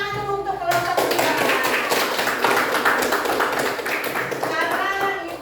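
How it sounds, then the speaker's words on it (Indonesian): A classroom group of student teachers claps for group 3 after its presentation, a dense burst of applause lasting about four seconds, with voices just before and after. "tepuk tangan dulu untuk kelompok 3"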